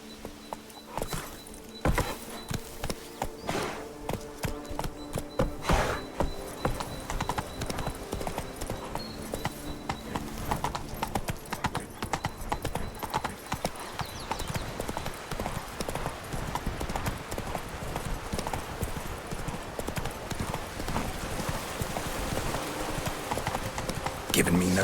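Roach, a horse in the video game The Witcher 3, clip-clops steadily and close by over a long stretch, the hoofbeats rhythmic under game sounds and voices talking.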